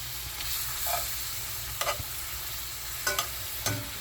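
New Orleans BBQ shrimp sauce bubbling and sizzling in a pan, a soft steady sizzle with a few light utensil scrapes and taps as the shrimp are turned.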